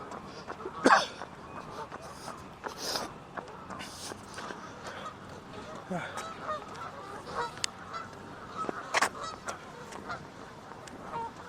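Geese honk outdoors near a totem pole, scattered loud honks standing out from a busy, noisy background at a moderate distance.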